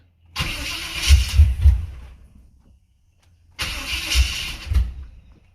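A Cadillac engine, fitted with junkyard parts, cranks with a few rhythmic turns and briefly fires, then dies to silence. After a pause it cranks again in a second close, loud attempt.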